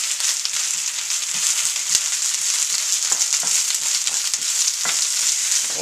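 Spinach frying hard over an open fire beside a rotisserie game hen, a loud, steady sizzle with scattered pops and crackles running throughout, no voices.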